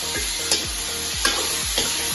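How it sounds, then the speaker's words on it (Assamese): About two kilograms of chicken fry in a large wok over a high flame, with a continuous loud sizzle broken by regular scraping stirs of the spatula, roughly every half second. "এইখিনি একদম হাই ফ্লেমত ভাজিব লাগিব"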